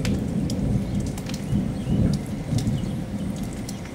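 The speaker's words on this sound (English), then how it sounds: "Incredibly powerful thunderstorm." A powerful thunderstorm in southwest Wisconsin brings steady heavy rain hissing on surfaces, with deep rolling thunder rumbling underneath, loud and close throughout, no voices.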